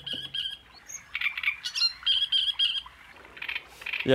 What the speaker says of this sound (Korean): 마치 사람이 휘파람 부는 듯한 소리를 낸다고 해서 이 새 이름은 휘파람새입니다